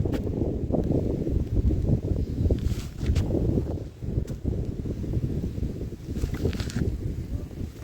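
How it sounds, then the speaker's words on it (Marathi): Steady wind roars across the plateau at Ankai Fort near Manmad, Nashik, buffeting a nearby microphone in low, rumbling gusts throughout, with no voices present. "काय सुंदर असा वारा आहे हा सुंदर पठारावरती"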